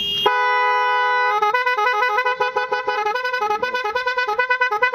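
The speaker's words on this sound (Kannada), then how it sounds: "ಇದು ಎಷ್ಟು ಬಿದ್ದೋಣ ಹಾರನ್ನು?" A loud musical motorbike horn sounds close by, holding one long chord before breaking into a rapid tune of short staccato notes.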